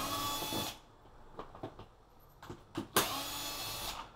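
A power drill whirs in bursts, removing screws during engine removal on a 2021 KTM 1290 Super Adventure S motorcycle, with short whines and clicks between longer runs, close by with no talking.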